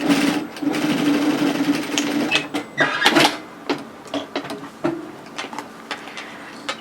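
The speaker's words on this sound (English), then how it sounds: "just sew a line of tack stitching within the seam allowance" A sewing machine runs a line of tack stitching within the seam allowance of a hoodie, a loud close whirring burst that gives way to a few short stops, clicks and handling noises.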